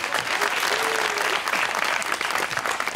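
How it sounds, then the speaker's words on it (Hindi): Studio audience applause on a television talk show, a dense, loud burst of clapping filling the whole moment without speech. "तालियां।"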